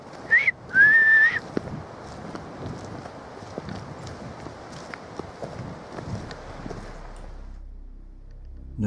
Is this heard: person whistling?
yes